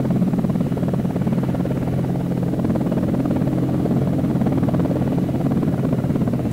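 Steady droning helicopter rotor and engine hum of a Hind in a flight simulator video game, loud and continuous throughout with a constant low throb.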